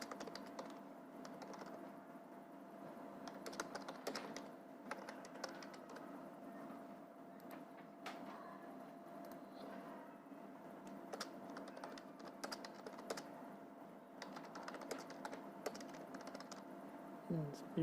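Typing on a computer keyboard while building an HTML web page, with soft scattered key clicks running through the whole stretch under a steady room hum and some faint talk.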